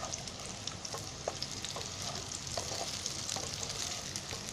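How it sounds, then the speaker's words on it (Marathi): Fenugreek vegetable rolls fry in hot oil on a high flame, producing a dense, even sizzle with faint crackles close up and no voices. "अशी चांगली फ्राय करायची आहे"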